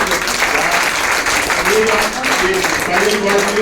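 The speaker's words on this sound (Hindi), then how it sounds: "एक बार तालियां बजाएं।" Audience applause at an anniversary gathering of a Ceragem centre in Indore, loud continuous clapping with voices mixed in underneath.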